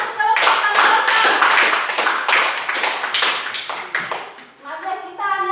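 Classroom of children clapping for a student group, a lively burst of many hands for about four seconds that thins out, followed by a few children's voices and a sustained tone at the end.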